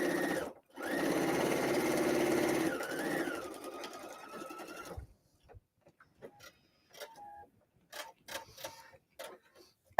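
A sewing machine runs steadily while stitching fabric pieces for an insulated tea cozy, with a brief pause and a second burst, then stops, leaving only faint scattered handling clicks.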